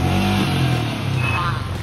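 Motorcycles arrive at a group bike meet, with an engine rumbling close by and a steady low drone that swells and shifts as the bike rolls in.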